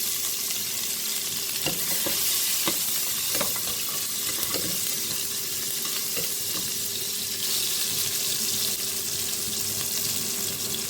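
Steady, loud sizzling of chopped onion frying in hot oil, a continuous hiss with faint stirring clicks and no voices.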